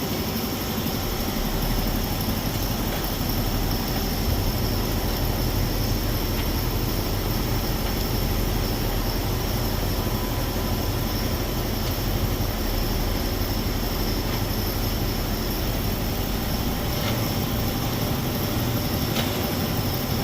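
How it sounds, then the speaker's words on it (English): A Ford Explorer driving just after a CV axle repair, its drive shaft binding and suspension loading up. A steady, loud, low rumble of drivetrain and road noise holds for the whole stretch, with no clear clicks and no voices. "What you hear is the drive shaft binding up and the suspension loading up"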